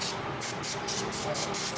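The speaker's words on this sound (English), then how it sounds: "Spray some" Aerosol spray can hissing in short repeated bursts during installation of a new alternator on a Jeep Patriot, close by, with a person talking under the spray.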